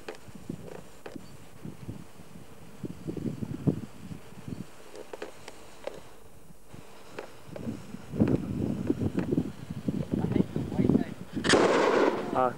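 A homemade bomb goes off on a 1999 camping trip: a sharp, loud outdoor blast near the end, following scattered low rumbles and crackling noise.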